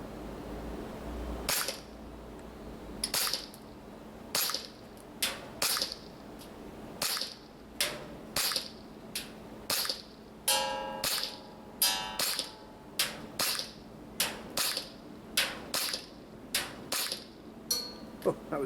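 WE G19 Gen 5 MOS gas blowback airsoft pistol firing 0.3 g BBs at a small target 40 metres away: about twenty sharp, crisp shots with a clacking slide, spaced in a steady, unhurried rhythm, loud and close.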